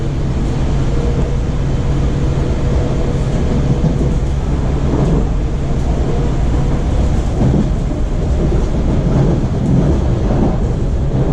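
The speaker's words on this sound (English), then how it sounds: "No passenger train rolling through the middle track." A loud, continuous low rumble of a WMATA Kawasaki 7000-series metro train rolling past nearby on the middle track of the Orange Line, steady throughout with rattling surges and no voices.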